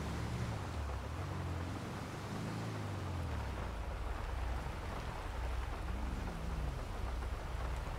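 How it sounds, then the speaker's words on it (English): Steady rain pours in a video game roleplay scene, a dense constant hiss with low rumbling beneath, loud and unbroken with no voices. "Oh shit, it's fucking raining."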